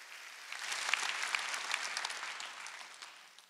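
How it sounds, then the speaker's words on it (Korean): A congregation at a Sunday church worship service claps steadily together, a dense, even wash of hand claps that swells and then gradually tapers off, with no talking over it. "박수 치라는 거지."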